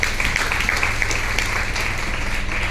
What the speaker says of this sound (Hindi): तो एक बार जोरदार ताली हो जाए विनिंग टीम के लिए